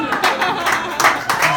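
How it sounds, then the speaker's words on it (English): Audience round of applause at a kids' comedy show, scattered clapping in uneven bursts from a modest crowd, with voices underneath. "give her a round of applause"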